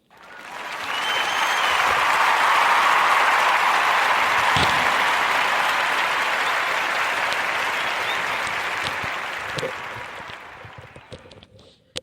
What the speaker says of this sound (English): a warm narrative podcast round of applause for her practice